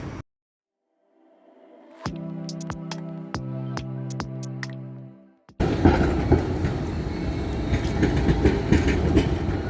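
A tram passes nearby in Vienna, Austria, with rhythmic wheel clicks and a humming tonal whine, then a louder rushing rumble as it goes by.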